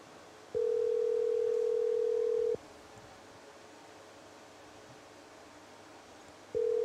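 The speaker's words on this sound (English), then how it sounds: "We'll give him one more ring." A telephone ringback tone on a call to a football coach: a steady buzzing tone lasting about two seconds, a long pause, then the next ring beginning, heard clearly over quiet background hiss.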